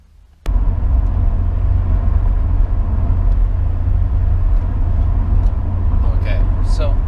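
A Porsche 944 fitted with a Momo Indy steering wheel is driven on a test run. Its engine and road noise form a steady, loud rumble heard from inside the car, starting abruptly and holding constant throughout.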